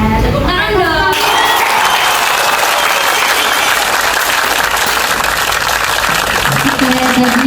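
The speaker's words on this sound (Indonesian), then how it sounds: "Ya, tepuk tangan dong." Clapping rings out in a classroom during an anti-corruption education session, with dense, sustained applause. A voice briefly comes through near the start and again near the end.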